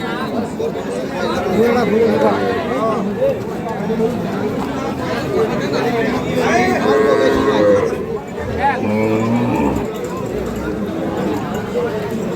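Cattle low at a bustling rural livestock market where Sahiwal, Sindhi and local dairy cows are sold with calves, the moos rising over steady crowd chatter and bargaining voices throughout.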